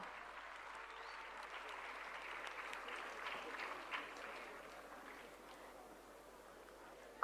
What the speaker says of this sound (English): With a huge round of applause, let us welcome Afia ma'am